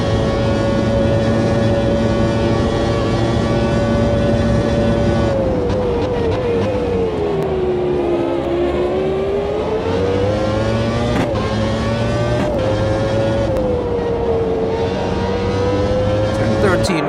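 A race car engine in Automobilista 2 howls steadily through the last lap at Road America, its pitch dipping and rising through corners with gear changes, loud and close, with other cars faintly underneath.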